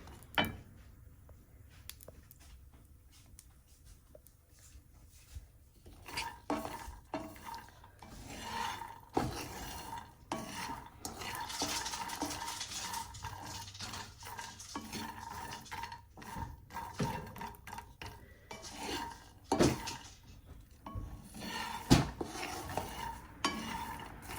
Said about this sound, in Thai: พอเขาเริ่มจะสุกนะคะ เขาก็จะแตกนะคะเพื่อน ๆค่ะ แตกออกมาแล้วก็ดังป๊อกแป๊กป๊อกแป๊กนะคะ